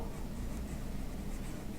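Pen or chalk scratches continuously and faintly during a classroom lesson, a soft, steady rasp with no speech.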